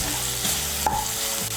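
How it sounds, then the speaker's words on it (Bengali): Vegetables fry in a pan, salt just mixed in, while paneer fried rice is being made. A brief, close sizzle is heard, with a stirring scrape in the middle and no voices. "মিশিয়ে নিয়ে সবজিগুলোকে আরেকটু ভেজে নেব।"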